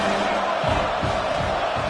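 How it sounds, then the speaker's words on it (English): Steady roar of a stadium crowd in College Football 26, a dense continuous wash of home-fan cheering with low rumbling swells, no distinct voices standing out. "this home crowd is fired up and ready to make a difference today"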